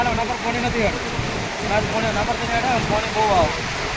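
Heavy flow spills over Mukteshwar Dam with a constant roaring wash close to the listener, and someone speaks over the continuous water noise.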